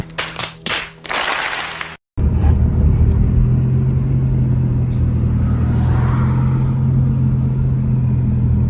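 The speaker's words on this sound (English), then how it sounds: "this car is straight pipe and it's actually still pretty quiet" A BMW 135i, MK5 Supra or WRX with straight-pipe exhaust cruises along, giving a steady, fairly subdued engine drone and road rumble after a brief burst of wind or handling noise at the start.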